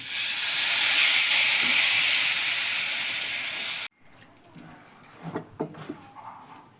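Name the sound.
water poured into hot pan with chilli powder, sizzling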